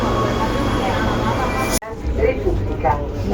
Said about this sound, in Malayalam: മെട്രോ യാത്രയാണ് രാവിലത്തെ സമയം ഭയങ്കര തിരക്കായതുകൊണ്ട് മെട്രോയിൽ നിറച്ചു ആൾക്കാരാണ്